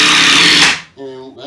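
Power drill driving 1.5 inch screws into wall studs during a handicap bathtub remodel, one loud close whirring burst that cuts off sharply, followed by a voice.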